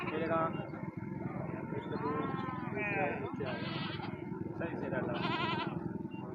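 Mountain goats and hill sheep bleat repeatedly at a livestock market, several wavering calls rising over steady crowd chatter and someone talking nearby, with background hum throughout.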